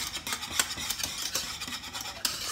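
A spoon stirs condensed milk into a coquito mixture in a bowl off the stove, making soft, repeated scraping and swishing strokes. The stirring is fairly quiet and close, with no talk.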